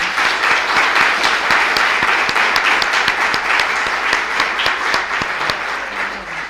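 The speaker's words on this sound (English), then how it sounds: "we should, of course, give you a very warm applause" Warm, dense applause from a conference audience on international operations, a steady roar of many hands clapping close and loud throughout, easing slightly near the end.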